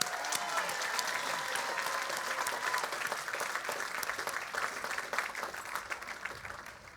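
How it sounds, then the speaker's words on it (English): Sustained applause from a college graduation audience, a dense wash of many hands clapping steadily for about seven seconds and easing slightly at the end. "we give ourselves a round of applause"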